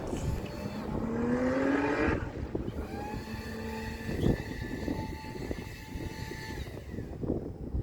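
A Volkswagen Golf drag racing down the strip at a dragway, its engine a steady droning roar with rising whine as it accelerates, heard from a distance amid outdoor crowd and track ambience.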